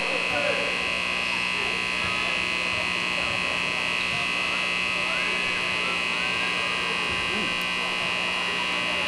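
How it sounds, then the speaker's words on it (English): At a 2013 middle school boys basketball game, the gym buzzer drones continuously at a steady, loud pitch and does not stop, while crowd noise and talking carry on underneath. "sounds like somebody fell asleep on the buzzer"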